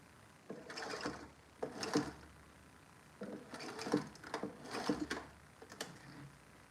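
A sewing machine stitches a cup made from upcycled jeans. Short bursts of mechanical clatter are separated by brief pauses, close by and fairly quiet.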